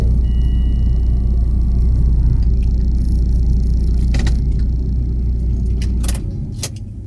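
A car passes outside as a loud, steady low rumble that fills most of the stretch and then fades away near the end, with a few faint clicks and no talking.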